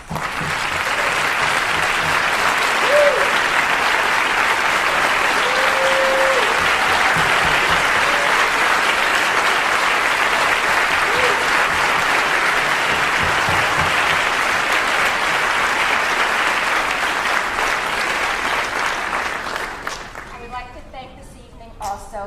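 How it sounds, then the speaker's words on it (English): Large audience applauding participants and mentors at a closing curtain call of a song, dance and music showcase, a dense steady roar of clapping for about twenty seconds that fades out at the end, with faint voices mixed in. "Would all the participants and mentors please stand for a worthy round of applause?"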